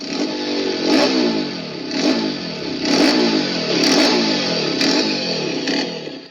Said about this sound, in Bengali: চলুন বাইকটির এক্সস্ট নোট শুনে নেওয়া যাক